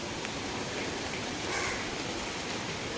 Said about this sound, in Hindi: रोड्स पूरा खाली है, बारिश हो रही है ना इसीलिए।